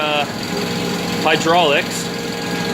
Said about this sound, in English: So we have the ramrod outside providing hydraulics